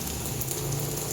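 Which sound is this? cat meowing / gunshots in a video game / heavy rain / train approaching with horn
heavy rain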